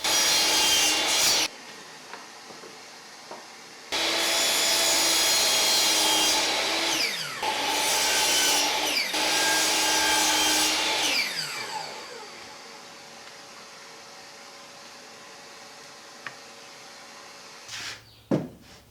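Wooden frame clamp parts have their corners sawn off by hand, heard as long bursts of loud rasping saw strokes with short gaps between them, fading into lighter scraping and then a couple of sharp knocks at the end.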